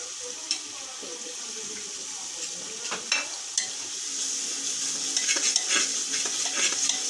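Spices are stir-fried in a pan for beef nihari, with a soft continuous sizzle broken by scraping and clinking of a utensil, close by and moderately quiet.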